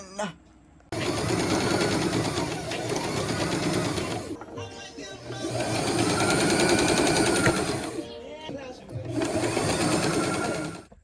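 A sewing machine stitches scarf pieces together for a halter top, running in three long loud bursts with brief pauses between, its motor whirring steadily close by.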